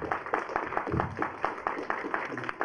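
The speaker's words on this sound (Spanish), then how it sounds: "la recibimos con un aplauso," An audience at a talk on Mexican bishops, family and marriage claps to welcome a speaker, steady overlapping hand claps at moderate distance, fairly faint.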